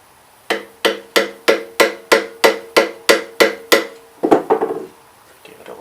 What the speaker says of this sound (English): Put in, take a hammer,